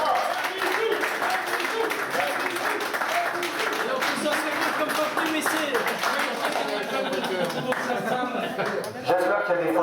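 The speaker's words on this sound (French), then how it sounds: "Applaudissons." An audience at an awards ceremony for an XT 500 motorcycle gathering in Tournai claps steadily, a dense sustained patter of applause mixed with cheering and voices talking over it throughout.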